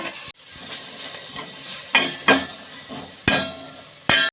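Tomatoes frying in a pan for cashew curry: a steady close sizzle broken by several sharp scrapes and taps of a spoon against the pan, stirring every second or so.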